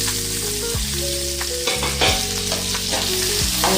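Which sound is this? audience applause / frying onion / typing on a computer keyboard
frying onion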